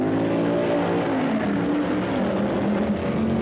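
Drag race cars at the 1965 AHRA Winternationals roar off the line together, a loud sustained engine howl with rising pitch as the machines accelerate down the strip, no voices over it.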